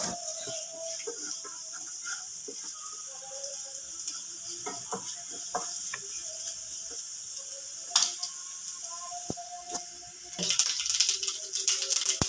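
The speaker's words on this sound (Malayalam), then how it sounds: "കടുകൊക്കെ ഒന്ന് നന്നായിട്ട് പൊട്ടി വരട്ടെ കേട്ടോ" Sparse popping and crackling of mustard seeds in hot oil, with scattered sharp pops and a busier burst of sizzle near the end.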